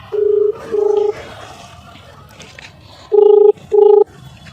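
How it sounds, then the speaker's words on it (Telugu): Phone dialing tones sound in four short, loud beeps, two at the start and two near the end, over low background noise. "డాన్సర్ విక్కీ ఫోన్ చేయి."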